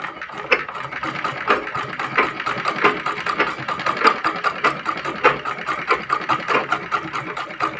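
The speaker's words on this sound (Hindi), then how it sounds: "कुछ इस तरीके से हमें सिलाई करनी है" A household sewing machine stitches fabric along a chalk mark with a steady, fast mechanical clatter of needle strokes, close and continuous without talk.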